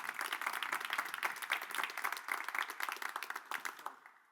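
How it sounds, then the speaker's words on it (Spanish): A church congregation claps in a dense, steady burst of applause that fills the room for several seconds, then cuts off abruptly at the end. "Dale un aplauso a Jesús."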